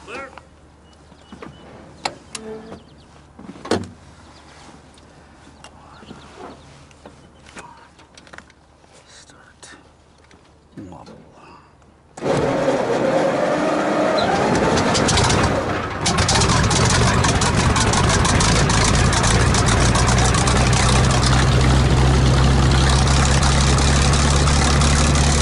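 Packard-built Merlin engine in a Canadian Hawker Hurricane cranks and catches, bursting abruptly from quiet whispered talk and clicks into a loud, steady roaring idle with a sputtering start that settles into a constant rumble.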